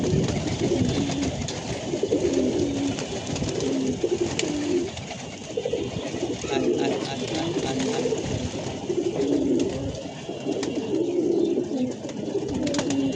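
Pigeons coo steadily in a repeating, throaty rhythm against a constant rush of strong wind, fairly close and continuous throughout.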